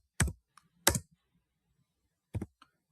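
A computer keyboard gives a few sharp, close key clicks spaced apart, two early strikes and a pair later, with quiet between them.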